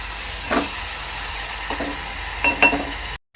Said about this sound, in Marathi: वाटण चांगलं शिजून घ्यायचं आहे